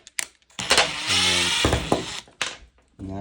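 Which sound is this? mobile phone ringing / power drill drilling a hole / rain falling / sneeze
power drill drilling a hole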